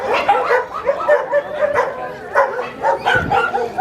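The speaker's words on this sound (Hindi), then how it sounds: "कुत्ता देखिए इधर में बहुत सारा।" Dogs for sale at the Sonpur Mela dog market, mostly Labradors and German Shepherds, with puppies kept below. They yip and bark close by in quick, overlapping bursts, some of them whimpering, and no one is talking.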